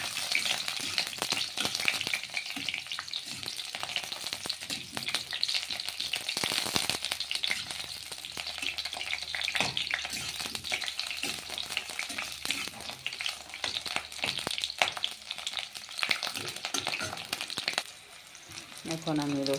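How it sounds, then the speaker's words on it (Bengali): Chopped onions fry in a hot pan with a dense, steady sizzle and crackle that runs for the whole stretch, with occasional stirring scrapes and a faint voice in the background. "এখন দেখো পেঁয়াজটা আমি দিয়ে সুন্দর করে ভেজে নিই"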